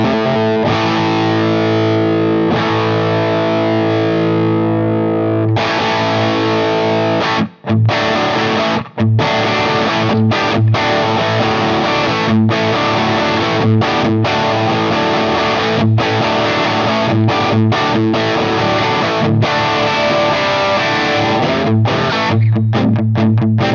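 Electric guitar through a Tiny Terror amp model with a ratty, lo-fi, grungy rock tone: a big distorted chord rings out, then continues as loud strummed and chugging chords with brief cutoffs, sustained and unaccompanied.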